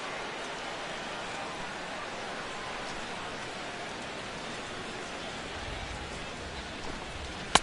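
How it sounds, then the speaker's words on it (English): Steady rain falls on a baseball stadium in the video game MLB 16 The Show, a constant even hiss throughout with a sharp brief knock near the end. "Corey Seager steps in here to lead off the 6th as the rain continues to fall here."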